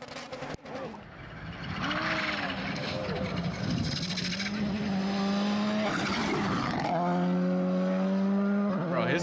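Rally car racing flat out, its turbocharged engine roaring loud and steady with rising gear pulls and tire skids, while people talk over it throughout.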